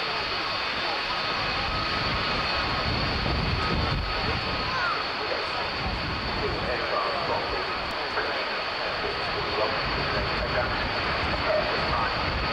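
A Firefly aircraft flies at the 1993 Coningsby airshow, its engine a steady, fairly distant drone that persists without a break over the whole stretch, with crowd and wind noise beneath it.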